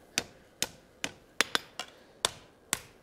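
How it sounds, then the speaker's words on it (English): A hammer strikes an iron bar against the horn of an anvil while forging a colonial-style trivet, seven sharp ringing blows at a steady, slightly uneven pace, close and clear with no talking. "keep it close to the horn, where you're hitting with your hammer"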